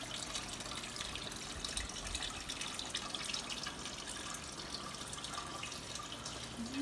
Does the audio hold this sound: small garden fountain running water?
yes